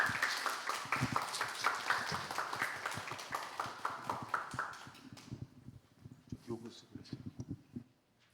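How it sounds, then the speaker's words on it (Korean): A women's worship-service congregation claps to welcome a pastor, with a dense, lively burst of many hands that gradually thins into scattered claps before stopping. Faint voices sit beneath the clapping. "문정현 목사님 오실 때 박수로 환영하겠습니다."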